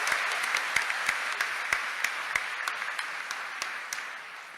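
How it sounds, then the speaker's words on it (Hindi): An audience at a live public event with Chief Minister Yogi Adityanath breaks into sustained applause, a dense wash of many hands with a few sharp nearby claps standing out, gradually fading. "एक जोरदार ताली महाराज जी के लिए"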